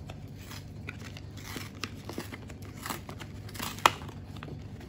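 Envelope holding a HILAL Bank ATM card being opened close up, with soft crinkles and paper rustles and one brief sharp tear, all quiet and without talk.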